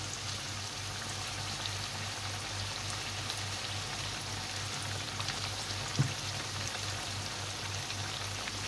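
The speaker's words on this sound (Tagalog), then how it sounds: "Kailangan iprito mo siya muna." Orange sweet potato (camote) fries in hot oil with a steady, faint crackling sizzle that runs throughout, with one brief soft knock partway through and no talk.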